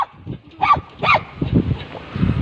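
A house dog barks twice in quick succession, loud and close, with soft rustling and low movement sounds around it.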